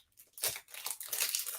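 Paper wrapper of a 2016 Marvel Masterpieces mystery trading card pack being torn open, a short, close crinkling rip that swells and continues as a papery rustle.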